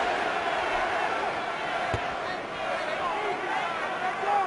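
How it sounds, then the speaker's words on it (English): A large boxing arena crowd at the Kelly Pavlik vs Jermain Taylor fight chanting for Pavlik, a dense, steady roar of many voices filling the space with no pauses. "And the crowd begins to chant for Pavlik."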